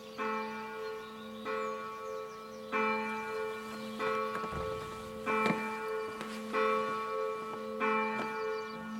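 Abbey church bells ring at night in repeated, evenly spaced peals with long sustained overtones, moderately distant and steady, with no voices, at Acey Abbey, France.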